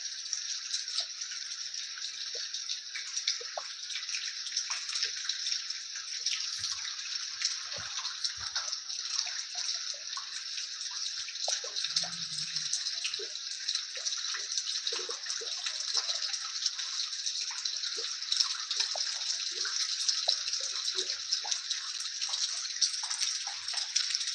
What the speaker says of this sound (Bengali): মিজোরাম খুব বৃষ্টি ভারী বৃষ্টি বর্তমানে